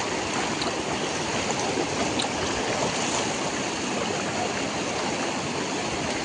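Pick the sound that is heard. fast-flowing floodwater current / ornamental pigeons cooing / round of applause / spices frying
fast-flowing floodwater current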